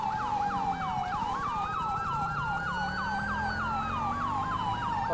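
A police siren wails in a fast, steady up-and-down yelp, loud and close, with road noise from a motor vehicle underneath and no talk.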